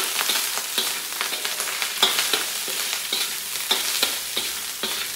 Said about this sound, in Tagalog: Pwede natin halo yung kanin.